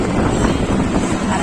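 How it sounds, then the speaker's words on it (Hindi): Strong wind in Haryana, India roars steadily across the microphone, a loud, continuous buffeting rush with low rumbling gusts and no pauses. "हवा चल रही है बहुत ज्यादा।"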